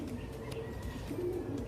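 A pigeon, a large batik giveaway bird, gives low, soft rolling coos, close and steady over a faint background hum, with no one speaking.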